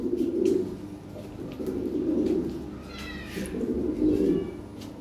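A pair of blue bar Lahore shirazi pigeons coos in low, throaty, repeated rolling calls, close and fairly soft, with faint chirps from other birds in the background.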